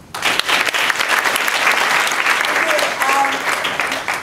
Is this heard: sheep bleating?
no